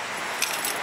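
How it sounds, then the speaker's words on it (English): Keys jangling as they are pulled from a back pocket outdoors on the Isle of Arran, a brief close metallic rattle over steady background noise. "We'll find my keys in my back pocket."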